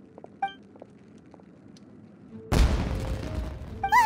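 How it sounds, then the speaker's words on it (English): Fireworks exploding in the Genshin Impact video game, a sudden loud burst followed by a dense crackling rumble that lingers, preceded by quieter game sounds and small chimes. "Was that an explosion? It sounded like fireworks."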